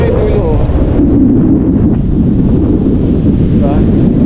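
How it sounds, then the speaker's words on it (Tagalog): Strong wind blows across an open river, buffeting loudly and continuously with a low rushing roar and no pauses. "Dito malakas ang hangin, current."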